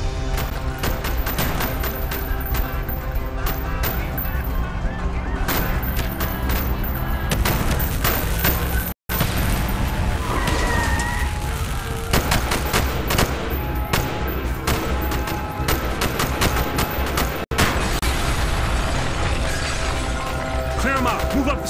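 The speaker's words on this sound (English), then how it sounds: "Bowen and Carlos, lay down covering fire." Dense automatic gunfire and fusillades from a street battle in the video game Call of Duty Black Ops, with loud, continuous rattling bursts and shattering impacts under shouted voices and game sound for the whole stretch.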